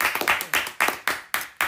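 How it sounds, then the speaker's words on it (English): A few guests at a small talk-show gathering clap close by in a loose, rhythmic pattern, with about half a dozen sharp, distinct bursts of hand claps rather than a dense crowd roar. "Give yourself a round of applause"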